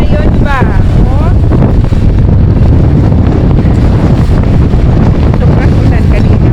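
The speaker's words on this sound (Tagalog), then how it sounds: "Grabe ang ulan ngayon, oh. Maalon din." Strong wind buffets the microphone with a constant roar alongside rough waves and rain at sea near Suomenlinna, a loud, unbroken wash of noise throughout, with a brief voice and faint whistling tones early on.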